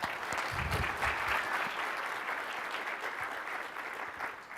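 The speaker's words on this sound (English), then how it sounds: "Let's give her a round of applause." Sustained audience applause fills a conference hall after a DevOps keynote demo, a dense steady wash of clapping that holds loud throughout and eases slightly toward the end, with no voices over it.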